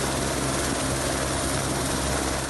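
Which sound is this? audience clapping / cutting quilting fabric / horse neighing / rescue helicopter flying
rescue helicopter flying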